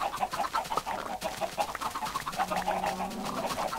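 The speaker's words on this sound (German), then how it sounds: "Hau ab da, du Scheißhuhn." Chickens cluck repeatedly in the game Minecraft, short choppy calls coming in quick irregular bursts amid busy game sound effects.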